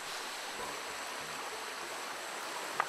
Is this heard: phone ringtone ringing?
no